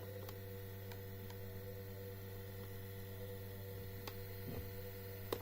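An Xpelair Taurus T10 extractor fan motor running at low speed after lubrication, a steady quiet electrical hum with faint intermittent ticks, no talking.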